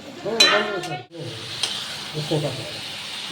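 Ginger sizzles and hisses in a hot pan while someone talks nearby, the frying continuing steadily beneath the voice.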